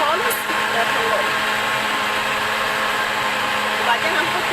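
Kitchen blender whirring steadily as it mixes milk, sugar and grated orange for a cake batter, a continuous close motor drone with a faint voice underneath.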